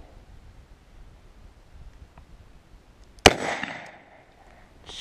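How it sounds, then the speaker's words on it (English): A single sharp, loud gunshot from a Smith & Wesson Model 29-2 revolver firing jacketed ammunition cracks outdoors after a few seconds of quiet wind, then a brief echoing tail follows. "shooting a cylinder full of jacketed ammunition should help clean the bore up a little bit"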